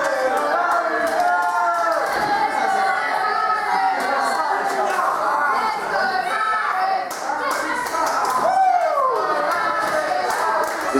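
A wrestling show crowd roars and claps, a dense, loud wall of cheering and chanting voices with scattered bursts of applause sustained throughout.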